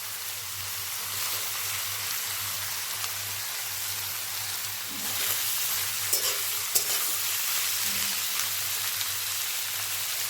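Fermented dried fish (shidol shutki) cooks in a pan with a continuous low hiss and crackle; the sizzle swells midway with a few clatters as pieces are added, no voices over it.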